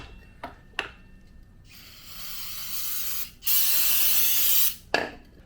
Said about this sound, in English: I need to spray some brake cleaner here because I got some crap on it